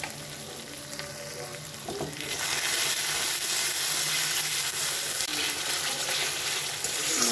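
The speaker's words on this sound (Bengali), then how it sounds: "মশলাটি ভালো করে নাড়াচাড়া করতে হবে" Masala fries in a pan and is stirred, a soft crackle that grows into a fuller, steady sizzle after a couple of seconds, with faint scraping of the spoon.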